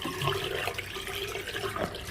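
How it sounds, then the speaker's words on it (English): Hot water runs through the hose of an hygger automatic aquarium gravel cleaner, making a steady gurgling, splashing flow close by with small rising bubbly tones. "by running hot water through here, it actually makes this easier to roll up"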